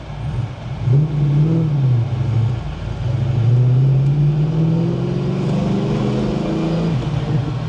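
A Rover SD1 Twin Plenum Vitesse, a rare 1980s British saloon, idles and revs with a steady low engine rumble, rising and falling in pitch across the stretch, sounding close and fairly loud with no voices.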